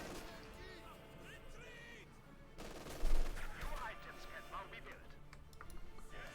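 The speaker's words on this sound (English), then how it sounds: "taking heavy fire from both mortars and grenadiers" Mortar blasts and gunfire from the World War II strategy game Company of Heroes 2, with a heavy low thump near the middle amid scattered shots, heard under a commentator's talk.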